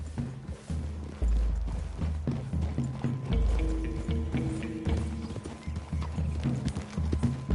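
Horse hooves clip-clopping through a clearing in a western video game, steady thudding footfalls over low ambient rumble and faint music, no speech.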